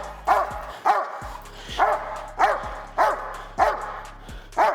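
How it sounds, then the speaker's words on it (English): Dog barking during a protection training session, a series of seven sharp, loud barks at a steady rhythm, each short and forceful, close by and with no talking between them. "Have him bark at me again."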